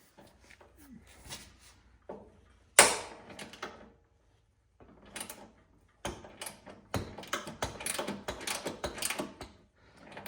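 Stuck bolts being wrenched off a riding mower transaxle, with intermittent metallic clanks, ratchet clicks and scraping in short close bursts separated by quiet gaps.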